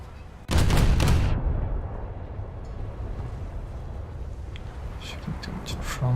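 A British cruiser's naval guns firing in a naval video game, a single loud booming salvo that rings out and decays into a rumbling wash, with faint clicks later.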